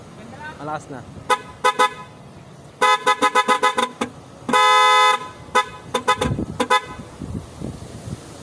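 A car horn is tested after a clock spring repair, sounding in short honks, a quick run of rapid toots, then one long blast and a few more short beeps, loud and close, with people talking between them.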